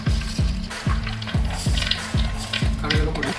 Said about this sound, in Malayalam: എണ്ണ നല്ല ചൂടായിട്ടുണ്ട്. നമുക്ക് 1 ടേബിൾ സ്പൂൺ കടുക് ഇട്ട് കൊടുക്കാം.